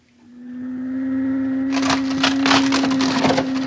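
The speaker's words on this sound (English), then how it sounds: "He's burning a hole right through the door." A wooden door being burned through begins with a steady low hum, then turns into loud crackling, hissing bursts and splintering noise that build and stay close, with no voices.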